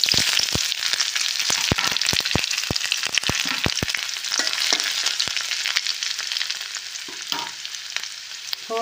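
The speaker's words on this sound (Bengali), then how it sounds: "কড়াইতে সর্ষের তেল বসিয়েছি, গরম হয়ে গেছিলো। এবার ফোড়নটা দিয়ে দেবো।" Dry red chillies, cumin, bay leaf and crushed ginger sizzle in hot mustard oil in a kadai, with a steady crackling fry and bursts of sharp pops, no voices.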